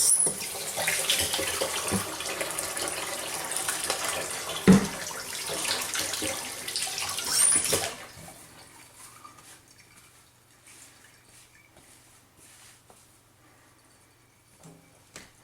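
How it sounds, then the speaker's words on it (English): Kitchen tap running full over hands being washed for about eight seconds, a steady loud rush of water splashing in the sink, then cutting off to quiet room tone with a few faint knocks. "the next important thing is you want to wash your hands"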